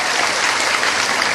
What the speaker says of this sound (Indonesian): tepuk tangan untuk SMA pandaan ini.